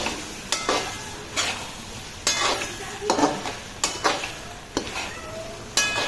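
Boiled eggs being stirred into masoor pulao masala in a pot, with a utensil scraping and clacking at an uneven rhythm, about eight close strokes over a soft sizzle, no talk.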